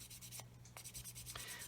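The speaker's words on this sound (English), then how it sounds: "And if I keep on sanding," An Infini sander works over a surface, giving a soft, faint rubbing and scraping with a few brief louder strokes, close by and with no talking.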